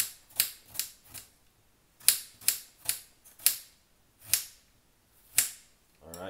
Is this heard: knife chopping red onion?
yes